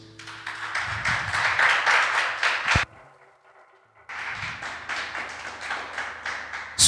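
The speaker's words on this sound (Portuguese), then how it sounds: "Aplauda Jesus." A church congregation claps for Jesus during a worship service, sharp claps in a steady rhythm that stop for about a second before starting up again, fairly close and loud.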